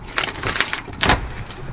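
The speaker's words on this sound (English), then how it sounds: "We got the keys." Keys jangle on arriving at a house, a few quick metallic shakes close by, loud and clear with no talking.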